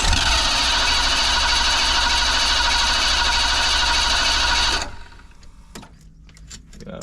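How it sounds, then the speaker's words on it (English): A 1987 Ford van engine cranks with a loud, steady churning roar for nearly five seconds, then cuts off abruptly, leaving near-quiet broken only by a few faint clicks. "let's try cranking it and see what it does"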